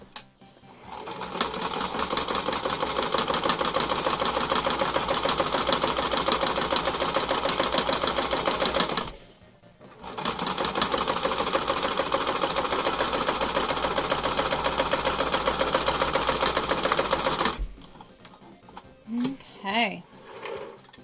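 Domestic sewing machine running in two long continuous bursts as it double-stitches a fabric face mask, a steady close whirring drone with a short pause between runs, then a few brief clicks and handling sounds.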